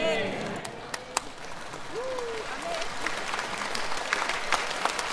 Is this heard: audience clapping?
yes